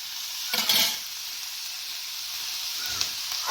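Onions sauté in a pan for chutney, a steady close sizzle broken by a couple of brief scraping stirs of the spoon, with no voices.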